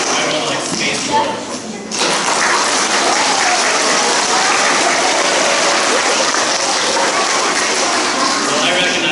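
An audience at an elementary school playground dedication claps loudly, with steady, dense applause rising after a short pause and continuing evenly throughout.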